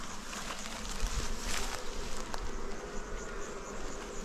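Honeybees hum steadily in and around a hive during a beekeeper's colony merging, a dense continuous drone filling the whole stretch without speech.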